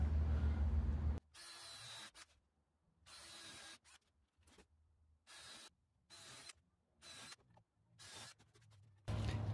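A countersink bit drills pilot holes, likely into wood for a passive subwoofer build, in several short bursts of whirring and grinding separated by silent pauses, close and fairly loud.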